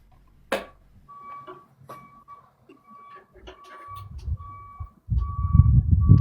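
A truck sounds a series of short, evenly spaced electronic beeps at moderate distance, steady in pitch, before a louder low rumbling noise takes over near the end.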